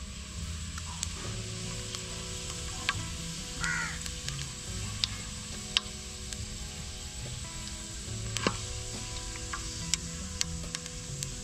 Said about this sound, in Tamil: சோம்பு போட்டு தாளிச்சுக்கலாம்.